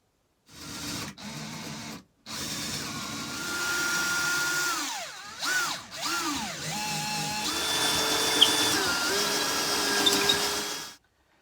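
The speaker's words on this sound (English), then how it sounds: "I've got this long 8mm drill bit and I'm going to drill through at an angle." A power drill with a long 8mm bit whines in several bursts inside a caravan, rising and falling in pitch as it bores at an angle, close and loud with short pauses between runs.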